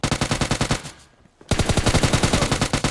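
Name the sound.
gunfire in a shooting video game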